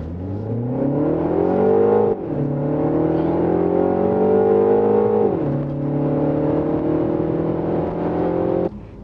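A Mini Countryman S ALL4's 204-horsepower 2.0 petrol engine revs up hard, pitch climbing steadily, dropping briefly at seven-speed dual-clutch gear shifts before rising again; loud and close, no talking.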